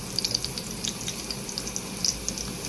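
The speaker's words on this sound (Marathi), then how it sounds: "आता तेल गरम झाले आपलं, त्यात लसूण टाकून घेऊ." Garlic dropped into hot oil sizzles and crackles steadily, with small sharp pops scattered over a dense frying hiss, close and fairly loud.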